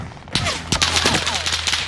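Rapid video game gunfire in a prison map, with bursts of automatic shots fired close by and echoing in loud overlapping volleys, heard alone.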